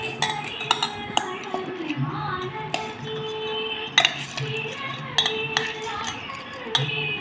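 A spoon stirs food in a metal pot, scraping and clinking against the sides in a quick, uneven rhythm, close by, with a few sharper taps and a voice briefly in the background.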